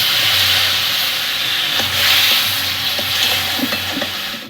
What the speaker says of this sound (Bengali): মশলাটা ভাজা হয়ে গেছে, এর মধ্যে অল্প করে জল দিয়ে দিচ্ছি